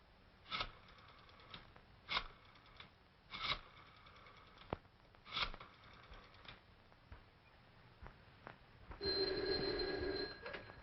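A telephone bell rings in an office at police headquarters in an old detective film, with several short bursts spaced through the scene and a louder sustained ring near the end, heard alone without speech.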